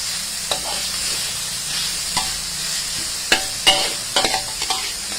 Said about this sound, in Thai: เราจะผัดแต่หมูสับนะคะเอาหมูสับมาลงกันนะคะ